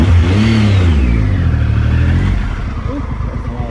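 A nearby motorcycle engine revs up loudly, rising in pitch, then drops back to a rough idle.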